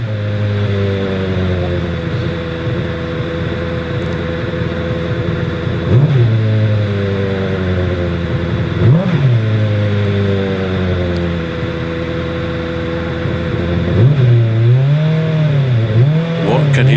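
Turbocharged hillclimb race car at Shelsley Walsh roaring hard off the start line, loud engine note climbing through repeated gear changes with brief dips and re-rises, strong sustained acceleration close by.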